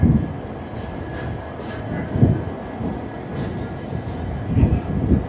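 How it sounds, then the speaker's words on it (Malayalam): The Gandhidham train comes in at platform 8 of KSR Bengaluru station with a low, steady rolling rumble, soft wheel squeals and periodic clunks of carriages passing, heard from the platform at a moderate distance. "ഇപ്പം ഇങ്ങോട്ടൊരു ട്രെയിൻ വന്നിട്ടുണ്ട്"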